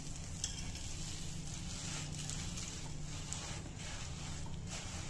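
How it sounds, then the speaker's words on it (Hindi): Makhana (fox nuts) roast in ghee with gram flour, giving a quiet, steady sizzle with soft stirring scrapes and a few light clicks, heard close but faint. "ये मखाने भी अच्छे से भुन जाएं, मिक्स हो गए हैं।"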